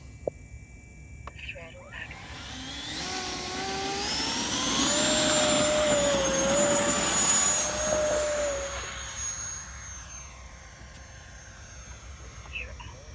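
An RBC kit T-33 RC model jet on its maiden flight spools up and takes off, a rising turbine whine swelling loud and near, then fading as it climbs away, with voices talking over it.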